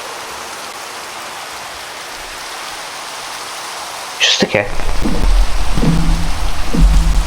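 Steady rain hisses evenly in the video game Minecraft, a soft continuous patter that carries on beneath someone speaking over the second half.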